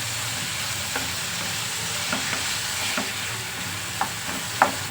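Tempering frying in a pan for a bachelor-style palya, a steady low sizzle running throughout with a few soft stirring clicks and taps near the end; no talking.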